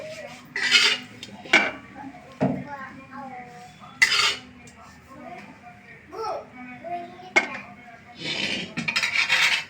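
A metal spoon scrapes and knocks against a pot as cooked rice is stirred, giving intermittent loud clanks and rubbing sounds while someone talks nearby.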